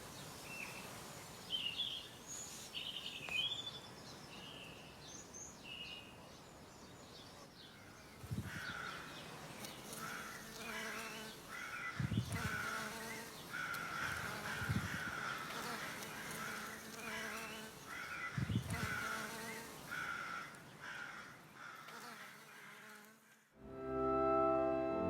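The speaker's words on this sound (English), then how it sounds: "listen to the bees in the Epimedium and all the birds in the sycamore tree" Birds call from a sycamore tree in a garden, with harsh crow caws and scattered chirps, moderately close, while a voice murmurs quietly underneath at times.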